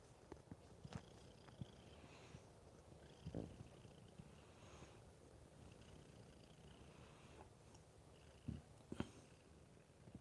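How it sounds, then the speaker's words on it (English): A female cat purrs softly and close by in a home with several cats. The low, steady rumble is faint under room noise, with a few small clicks and shifts scattered through it. "She got a little bit of a purr going."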